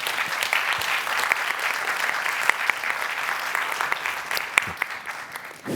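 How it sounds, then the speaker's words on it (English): An audience applauds panelists at an anti-corruption conference session, a steady, dense wash of many hands clapping that holds evenly for several seconds with scattered sharper individual claps. "a big round of applause to our panelists"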